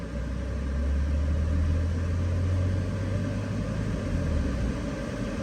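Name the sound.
car engine revving up with turbo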